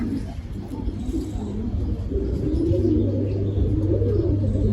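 Pigeons in a loft give low, throaty coos that overlap one another. They sound close and fairly loud, with a constant rumbling background beneath them.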